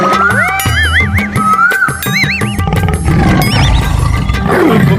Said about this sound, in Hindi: बाघ?